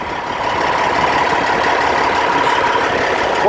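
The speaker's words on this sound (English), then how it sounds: "The engine is idle." A steady boat engine idles at an even, continuous rumble with a faint whine, running close and unchanged throughout, with the clutch engaged.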